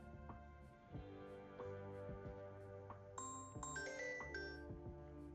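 A smartphone set ringing remotely by a Find My Phone command from a Galaxy Watch gives a bright repeating chime tone, with a rising melodic ring starting partway through over a low steady background hum.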